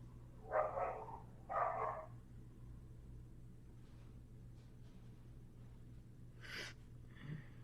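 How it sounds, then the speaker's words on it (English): Puppy dogs barking as they are taken outside, two quick muffled barks followed by a fainter yip, heard at a distance over a steady low hum. "And that was Jackson taking the puppy dogs out, and every single time he takes them out, Dixie goes berserk"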